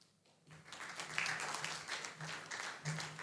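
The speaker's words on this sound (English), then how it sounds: "Applaud for Frank Assefoa, who is joining me, please." An audience at an internet summit in Ghana applauds, soft, fairly distant clapping that builds after a quiet half second and continues steadily with a faint low hum beneath.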